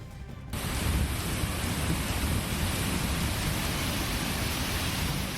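Heavy rain pouring in the hills near Manali by the Rohtang Tunnel, a dense, steady roar of downpour that starts with a brief softer moment then holds loud and constant throughout.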